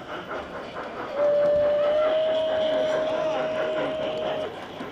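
A model railway train runs with a steady rumbling clatter at an outdoor fair's model railway and toy market, while a long, level whistle sounds for a few seconds; voices murmur in the background.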